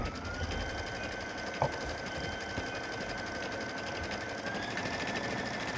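A sewing-style embroidery machine stitching metallic thread steadily, a fast continuous mechanical whir and chatter at constant loudness, with one brief click partway through.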